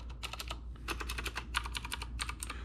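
Keys being pressed on an Akko World Tour mechanical keyboard, with bursts of rapid clacky keystrokes, close and crisp, separated by short pauses over a low steady hum.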